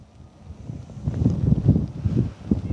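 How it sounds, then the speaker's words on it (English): Strong, gusty wind at a model airplane flying field roars low and rumbling across the microphone, swelling and surging in uneven, buffeting waves, close and loud with no talk. "Wow, man, that wind."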